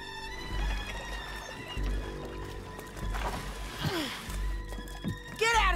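A horse in the Western video game Red Dead Redemption 2 gives a rising, wavering whinny near the end, over game music, low rumbling hoofbeats and bits of speech.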